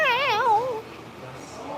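A single drawn-out, wavering meow from a cat waiting impatiently for treats at a cat sanctuary, close and fairly loud, fading after under a second into quiet room noise.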